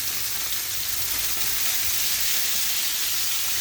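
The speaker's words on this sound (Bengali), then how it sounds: "এখানে এটা দিয়ে দিলাম এটা নিয়ে বাজি করবো" Vegetables fry in a pan with a dense, steady sizzle and hiss, close and continuous, with no talking.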